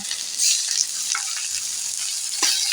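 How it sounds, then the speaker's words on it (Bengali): Garlic paste sizzles and fries steadily in a pan, a close, continuous crackle with a few louder bursts and light stirring scrapes, no voices over it. "রসুন বাটাটাকেও আমি ঠিক করে ভেজে নেব"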